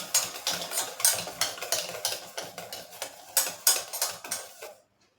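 Mango tea cake batter with ground semolina being stirred in a bowl, a steady run of scraping, tapping utensil strokes at close range, repeated rhythmically before stopping abruptly.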